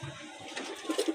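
Pigeons cooing, a few soft, low, rounded coos heard close by and faintly, with short repeated notes toward the end and no talking.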